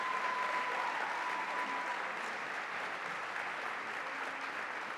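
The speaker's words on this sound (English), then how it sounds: "Let's have a round of applause for our incredible team." A hall audience at an award ceremony gives sustained, even applause for a garden team, a dense wash of many clapping hands holding steady and fairly loud throughout with a faint tone briefly underneath.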